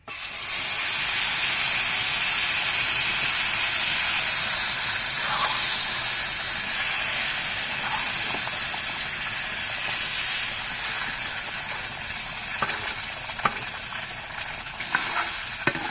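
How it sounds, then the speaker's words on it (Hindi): Water poured into a pan of hot roasted wheat flour and sugar while making halwa sets off a loud, steady steaming hiss and sizzle that continues for the whole stretch, with faint stirring scrapes near the end. "अब हम इसमें पानी डालेंगे।"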